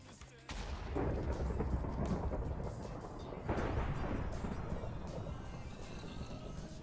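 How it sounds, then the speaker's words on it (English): Thunder from a lightning strike in Minecraft rolls in as a loud, sustained rumble that swells again midway and lingers for several seconds, with a voice briefly audible over it. "We were struck by lightning"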